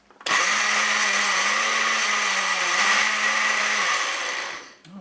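A blender runs steadily for nearly five seconds, whirring loud and close as it purees tortilla soup sauce loosened with a splash of chicken stock, its motor pitch wavering slightly before it winds down.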